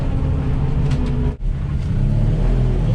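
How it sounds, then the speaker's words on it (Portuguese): A 1964 Willys Rural with a Jeep engine revs hard as it accelerates, a loud, close, rough rumble with a brief dip partway through as the throttle eases, with no talking. "E ela tem aquele barulhinho, né, quando ela tá soltando, acelerando"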